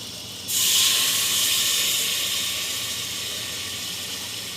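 Water poured into masala in a hot pan for an egg curry bursts into a loud, steady hiss after a short quiet moment, then slowly fades while staying strong and close.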